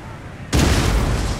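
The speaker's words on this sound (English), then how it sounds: "Good canister going in." A cannon fires canister shot in the video game Total War, set in the Thirty Years' War: a sudden loud blast after near silence, followed by a sustained roaring rumble and crackle that slowly decays.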